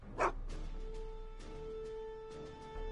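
Einstein the dog from the Back to the Future video game gives a single sharp, close bark, followed by softer yips and whimpers over a low steady hum.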